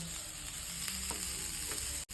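Unnakkaya, banana-stuffed Malabar snacks, frying in ghee with a steady, close sizzle and soft stirring, faint and continuous with no talking.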